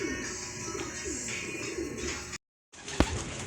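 Racing pigeons coo steadily near a loft as birds return home, soft repeated coos running throughout with a brief cut to silence and a sharp knock near the end.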